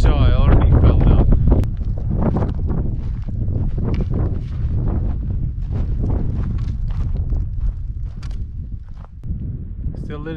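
Gusty wind buffets the microphone on the summit of Mount Agung in Bali, a loud, steady low roar running throughout with rustling and scuffing on top and a voice talking over it.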